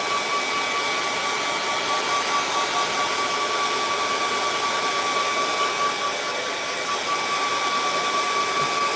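Hair dryer blowing a steady, loud, continuous whoosh with a faint whine, drying wet paint on a painted rocky lake scene, unbroken throughout.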